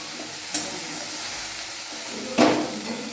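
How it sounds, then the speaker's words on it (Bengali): Okra frying in a wok, a steady soft sizzle throughout with two brief louder scraping stirs near the start and later, no voices. "এইবারে কড়াই বসিয়ে দিয়েছি ঢ্যাঁড়স ভাজা"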